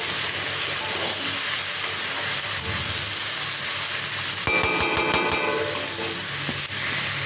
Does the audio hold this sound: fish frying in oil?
yes